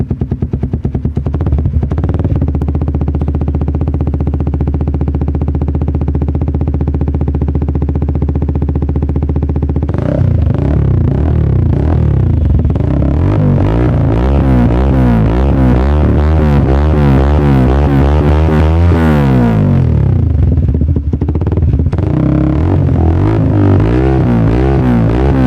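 A Yamaha Raider 150 fuel-injected motorcycle with an aftermarket exhaust idles loudly up close, then revs repeatedly in rising and falling surges, before settling back to a steady idle.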